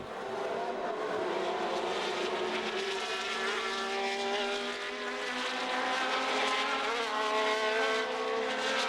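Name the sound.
1970 Formula One race cars racing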